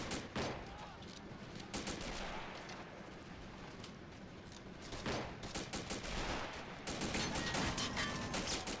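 Dense, sustained gunfire from Colt .45 pistols, an M3 grease gun and a .50 cal machine gun in a Battle of the Bulge video game firefight, overlapping bursts and cracks filling the whole stretch with no let-up.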